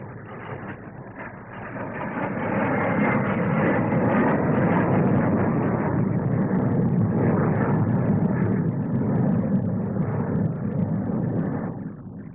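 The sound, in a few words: Avro Vulcan delta-wing four-jet bomber taking off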